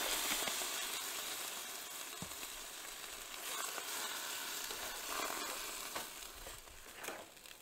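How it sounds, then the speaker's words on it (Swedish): Vegan mince frying together with cooking cream and softened onion in a pan over a gas burner, a steady close sizzle with occasional stirring scrapes and no talk. "Nu steker jag ihop vegofärsen med grädden och löken."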